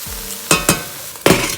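A pasta sauce simmers on low heat in a pan while a utensil stirs it, giving a few sharp scraping strokes over a soft sizzling bed.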